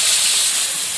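Panch phoron and bay leaf hit hot oil, giving a loud, close, continuous hiss of sizzling that fills the whole short moment.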